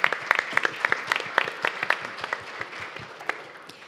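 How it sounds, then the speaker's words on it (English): Scattered applause from a business summit audience for a plenary session moderator, a smaller group clapping in distinct, uneven claps that gradually thin out. "We need another big round of applause to our moderator to lead the plenary session"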